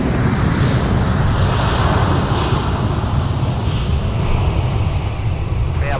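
A former Northwest Delta A320 arriving from New Orleans rolls out after touchdown at Minneapolis–St. Paul airport, a loud, steady, broadband engine and wind roar that holds at near-constant level throughout, with no speech.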